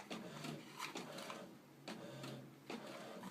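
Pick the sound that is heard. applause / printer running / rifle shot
printer running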